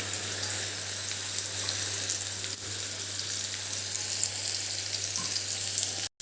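Peeled raw mango pieces sizzle in hot oil over a low flame, a steady dense crackle with a constant low hum underneath, ending in a brief clunk and cut.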